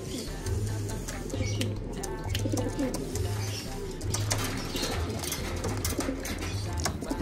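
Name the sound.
pigeons cooing angrily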